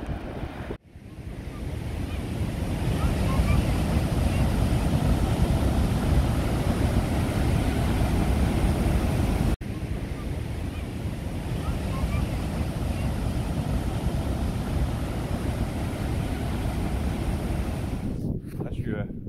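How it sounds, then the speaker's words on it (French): Diotifos waterfall in Iceland thundering as a continuous roaring rush of falling water, loud and close, mixed with heavy wind buffeting the microphone from start to finish. "C'est la cascade de Diotifos."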